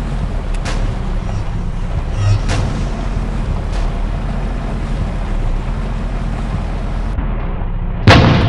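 Tank cannon fire in the mobile tank game War Machines, with an Altay tank in play: steady low battle rumble throughout, a few sharp cannon blasts early on, and a loud heavy shot bursting in right at the end.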